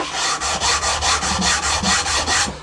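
Rhythmic rasping strokes of sanding on wood for a Les Paul Junior style guitar build, about a dozen even back-and-forth passes, close and loud with no talking.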